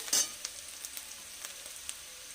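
Onions sizzle gently in a pan for a Bengali mixed-vegetable curry with ridge gourd, a quiet steady frying hiss broken by a louder spatter at the start and small scattered pops.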